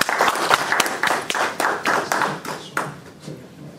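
An audience at an event applauds, close rhythmic clapping with distinct claps standing out, gradually tapering off.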